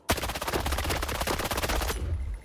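An AKS-74U submachine gun in the game STALKER 2 fires a single loud, close, rapid automatic burst of about two seconds, the evenly spaced shots ending abruptly, with no talk over it.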